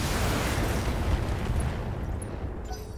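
Mech weapon fire and explosion in the BattleTech video game, a loud sustained roaring blast that rumbles and slowly fades over a few seconds, with faint high pings near the end.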